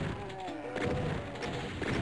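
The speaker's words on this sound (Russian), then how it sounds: "он взорвал бочку, рядом с которой я стоял" Barrel exploding nearby in DOOM II on Ultra-Violence, a brief heavy thump and crash rising out of steady, loud game music and effects.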